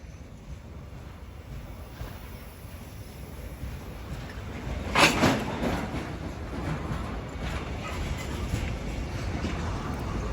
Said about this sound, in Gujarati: અવાજ ટ્રેનનો અવાજ કેવો આવે છે.